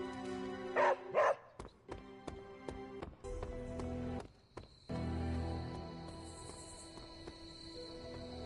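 A dog barks in Marvel's Midnight Suns, two loud close barks early on, followed by scattered game clicks and a steady background music hum.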